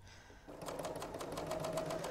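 A serger sewing machine stitches a bow tie quilt, starting after a brief quiet moment and then running in a rapid, even mechanical rattle with regular clicking pulses, fairly close and steady.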